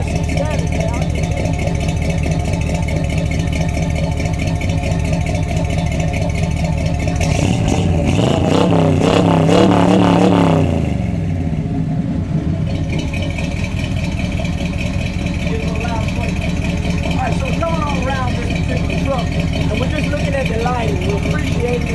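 A 1970 Chevy C10 custom restoration truck engine idling with a steady low rumble, then revving up loudly for a few seconds before settling back to idle, with someone talking throughout.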